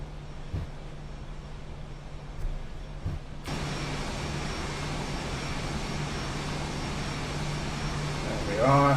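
In the X-Plane flight simulator, an aircraft engine drones steadily as the plane taxis onto the runway. A voice speaks over the engine, which turns louder and fuller partway through.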